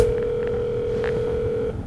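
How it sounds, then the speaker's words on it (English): A cell phone's dialing tone plays as a steady, continuous hum at moderate loudness for nearly two seconds, then cuts off near the end, with no voices over it. "The phone is dialing."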